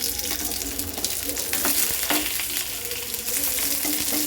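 Pieces of vanjaram fish fry in a pan with a continuous crackling sizzle, with bursts of sharper spitting and a few louder pops throughout.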